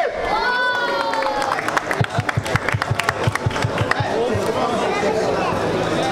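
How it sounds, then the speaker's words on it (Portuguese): Crowd cheering and shouting at a rap battle semifinal at Roda Cultural da Rocinha, a dense roar of voices with a run of rhythmic chanted shouts or claps in the middle, loud and close, with a voice calling out over it. "Barulho só pra quem achou que foi GBF"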